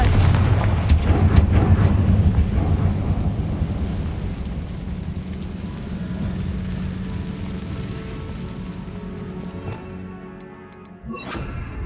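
A Confringo explosion spell in the video game Hogwarts Legacy, a loud booming blast with rumbling low-end debris that slowly decays over several seconds, followed by a fainter second impact near the end.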